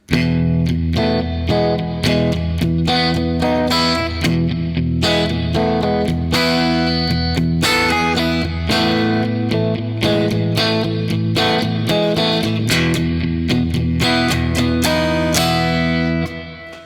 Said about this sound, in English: we have the E going to the A if we have a chord progression that's a 1-4